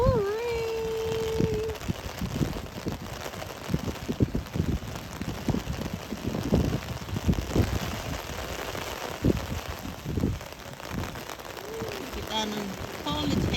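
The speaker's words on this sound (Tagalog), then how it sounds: "Oh, the rain, oh, rain." Rain patters steadily on surfaces outdoors during the wet season, a soft continuous hiss with scattered droplet taps, while people talk and call out over it.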